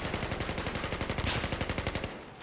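Rapid automatic gunfire in Battlefield 1 rattles in a fast, even burst of about two seconds, loud and close, then cuts off abruptly.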